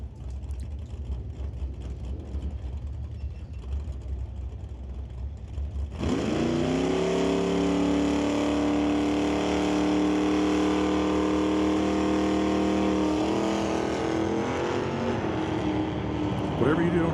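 Drag racing cars launching down the quarter mile at an NHRA Northwest National Open pro race. Low ambient crowd noise gives way to a sudden, loud, sustained engine roar that holds steady for about eleven seconds, with a faint voice in the background.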